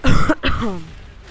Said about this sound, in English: Sorry, I'm gonna cough.